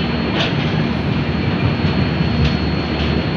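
Trivandrum Rajdhani Express on the single-track Konkan Railway heard from inside a 3 AC coach, a steady broad rumble of wheels and carriage noise with faint periodic rail clicks, loud and close.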